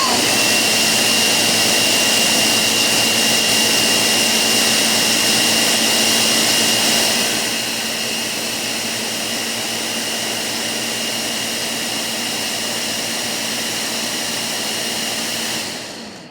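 A blender grinds food at full power, a loud steady whirring roar that drops to a slightly lower, strained pitch partway through before cutting off at the end.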